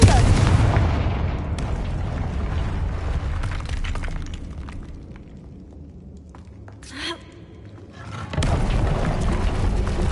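A loud, booming fire-spell explosion in a video game, a heavy blast that decays into a long rumbling tail, then a brief sharp crackle and a second powerful boom near the end.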